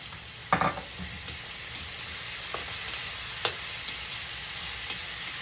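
Shrimp cook in a pot for salmon head sinigang, giving a quiet, constant sizzle and bubbling with a couple of soft clinks and stirring knocks near the start.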